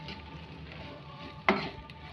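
Ivy gourd pieces roast in hot oil, giving a faint, steady sizzle with one brief louder clatter of stirring partway through.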